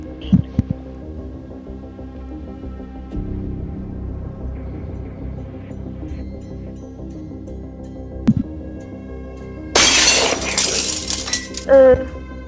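Glass shatters in the Roblox game Brookhaven roleplay: a sudden bright crash lasting about two seconds, with a shorter second burst just after, over a steady low game hum and faint voices.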